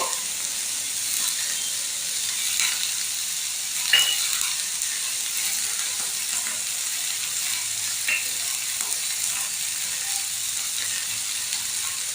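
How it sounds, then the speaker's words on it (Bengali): Close, continuous sizzle of soybean chunks frying in a pan with salt, turmeric and sugar, punctuated by scraping and clicking stir strokes against the pan; no voices. "নুন, হলুদ, মিষ্টিটা দিয়ে 2-3 মিনিট নাড়াচাড়া করে নিয়েছি"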